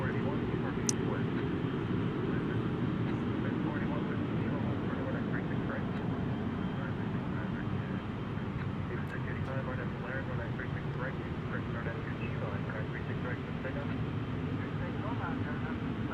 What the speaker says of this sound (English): Delta Airlines here on an Airbus. Looks like an A320 departing on 36 right.